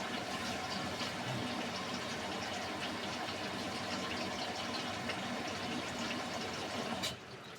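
A Beko WMY81283LMB2 washing machine takes in water for a 30-degree hand wash, a steady broadband rush of filling water that runs evenly and then drops sharply to a quieter level near the end.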